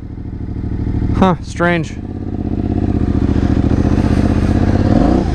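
Yamaha Tenere 700 motorcycle engine idling steadily after a hard start, a close rumbling drone with a brief rev near the end, under short spoken remarks early on.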